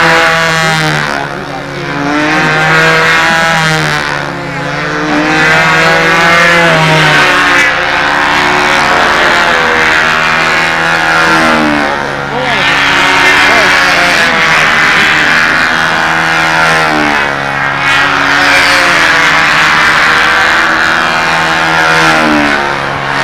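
A model airplane flies overhead at the windy 1999 Brodak event. Its small engine gives a loud, continuous high whine that rises and falls in pitch as the plane circles.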